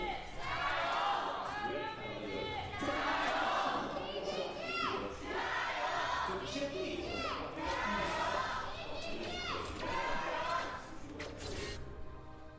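A large esports arena crowd at an LPL League of Legends match cheers and yells in sustained, surging waves, with shouts and whoops rising above a dense roar for the whole stretch.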